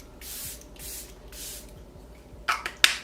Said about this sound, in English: We are just going to do one last layer of setting spray.